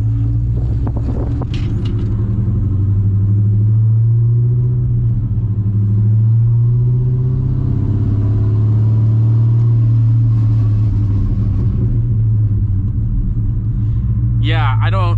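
A straight-piped C6 Corvette V8 drones loudly while driving, a deep steady low rumble with rising and falling engine pitch, close and dominant, and a voice speaks briefly near the start and again at the end.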